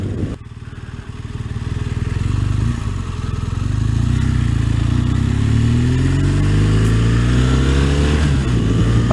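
A 2016 BMW R1200RS motorcycle accelerating while being ridden, its engine loud and close, revving and climbing steadily in pitch through a gear change with a brief dip before pulling strongly again, no talking.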